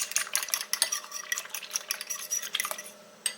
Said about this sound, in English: Just get that mixed in with the egg.